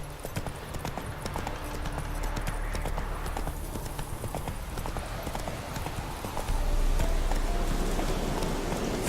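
Geralt's horse Roach galloping in The Witcher 3, a fast steady clip-clop of hooves close by over a continuous low rumble, growing louder in the last few seconds.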